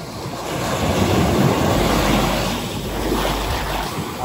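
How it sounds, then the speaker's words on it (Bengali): Large sea waves at high tide on Saint Martin's beach, a loud continuous roar of surf with deep low rumble and wind buffeting the microphone, no voices. "এখন সাগরের পূর্ণাঙ্গ রূপে দেখা যাচ্ছে, মানে কি বিশাল বিশাল ঢেউ"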